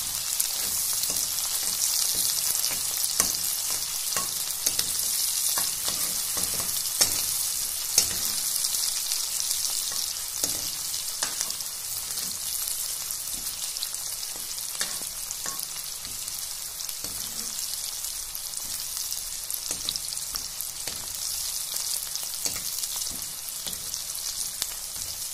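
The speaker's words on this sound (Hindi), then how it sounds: "अब डालेंगे इसके अंदर हरी मिर्ची और प्याज। इन दोनों को अच्छे से फ्राई कर लेंगे," Green chilies and onion fry in a pan, a close, continuous crackling sizzle with fine popping spatters and occasional stirring scrapes, steady for the whole stretch without talk.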